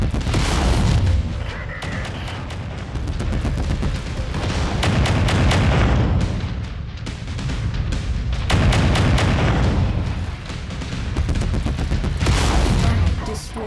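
Mech weapons from MechWarrior 5: Mercenaries pound away in a loud, sustained barrage of rapid gunfire, heavy booms and explosions, surging and easing in waves across the clip.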